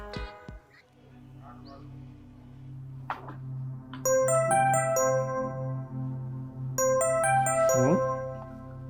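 A bright electronic phone ringtone melody plays in two loud bursts over a steady low hum, with a few faint knocks before it starts.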